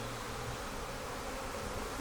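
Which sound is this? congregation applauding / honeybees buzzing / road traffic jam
honeybees buzzing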